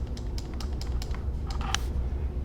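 Quick run of computer keyboard keystrokes, close and fairly loud, a steady patter of light clicks with a brief denser burst near the end, no voices over a low room hum.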